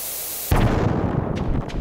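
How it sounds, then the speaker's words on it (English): A bomb goes off in the Stardew Valley video game: brief quiet, then a sudden loud, close blast that rolls into a crackling, hissing burst and slowly fades. "So I'm gonna show you the bomb."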